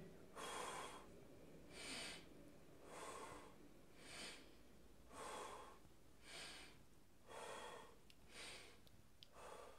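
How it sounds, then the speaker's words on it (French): Slow, deep abdominal belly breathing, with about eight even breath cycles of airy inhales and exhales that rise and fall in a steady rhythm, close and alone. "La respiration par le ventre, donc abdominal, ça donne ça."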